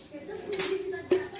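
A metal pressure cooker is set down on a lit gas stove, giving two short clanks about half a second apart over faint room noise.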